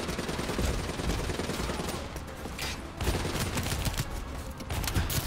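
Dense gunfire from the video game Call of Duty Black Ops 3 rattles on without a break, with overlapping shots forming a steady, noisy barrage at moderate loudness.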